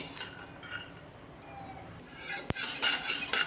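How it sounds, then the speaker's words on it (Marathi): Peanuts roast in oil in a kadhai while a spoon stirs them, scraping and clinking against the metal, with one sharp knock and then a louder sizzling hiss. "त्याच तेलात हे शेंगदाणे छान भाजून घेणार आहे"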